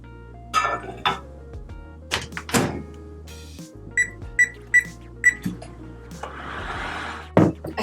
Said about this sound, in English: I need to microwave some water and get that nice and hot